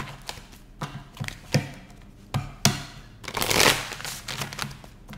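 Tarot cards shuffled by hand in a series of crisp riffles and taps, ending in a longer rushing riffle, close and fairly loud with no talking.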